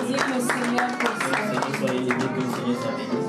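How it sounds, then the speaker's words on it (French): Church congregation clapping in praise, a dense burst of many hands applauding steadily with voices mixed in, fairly loud and sustained throughout. "On peut applaudir le Seigneur pour ça."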